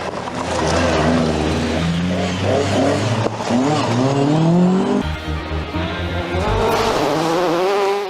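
A Lotus Cortina rally car blasts along a forest special stage at a historic rally. The engine sits near and loud, revving hard with rising and falling pitch through the gears, and the tires squeal briefly partway through.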